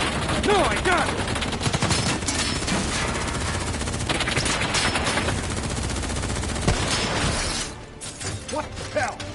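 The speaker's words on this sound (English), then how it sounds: "Who's shooting?" Sustained gunfire in Call of Duty Black Ops 3, with rapid machine-gun bursts and dense volleys rattling near and loud for several seconds before easing off, and voices talking over the shooting.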